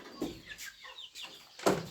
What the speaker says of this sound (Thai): ลูกไก่กินข้าว